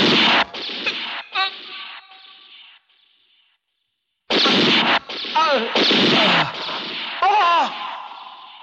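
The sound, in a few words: gunfire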